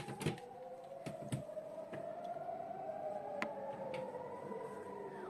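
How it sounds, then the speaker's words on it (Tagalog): An air raid siren in Israel sounds with a long, slowly sliding wail that rises and falls, moderately distant and faint, overlaid by a few sharp nearby clicks and taps. "Ang lakas ng sirena, oh."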